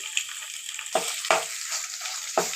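Ginger garlic paste frying on low heat in oil left from frying chicken: a steady close sizzle broken by four sharp spatula scrapes or clicks.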